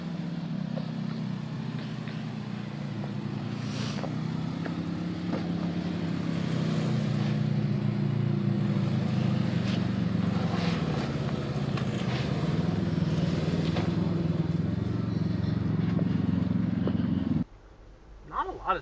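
A Subaru Forester crawling over sand on rock on a rough off-road trail: a steady, close engine drone with a slight surge midway, muffled voices underneath, cutting off abruptly near the end.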